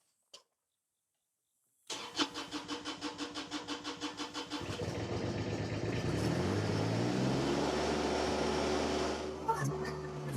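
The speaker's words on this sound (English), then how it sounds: "So I'm going to try starting off with the mini skid" A mini skid steer loader's small engine cranks with a rapid rhythmic chug, catches and settles into a steady, close, fairly loud running drone that holds to the end.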